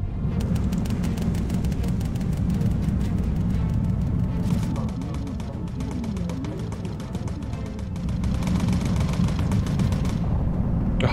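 Bomber Crew video game aerial combat: bomber gunners firing at fighters, dense rapid machine-gun bursts over a constant low engine drone, a brief lull midway before the firing resumes, steady and loud throughout.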